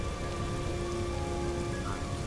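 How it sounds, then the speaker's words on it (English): Steady, dense rain falls in the Key to Ravenhearst video game, an even wash of drops on surfaces with a low rumble beneath, constant throughout. "Of course it's raining."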